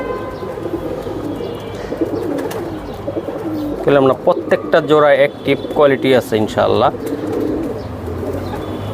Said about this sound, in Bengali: এটা টেডি কবুতর ভাই পাকিস্তানি